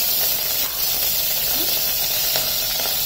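Cumin seeds and curry leaves hit hot sesame oil, producing a loud, constant hissing sizzle that stays close and even throughout.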